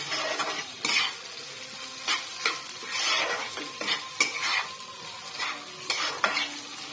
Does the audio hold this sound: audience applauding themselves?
no